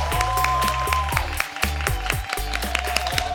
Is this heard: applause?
yes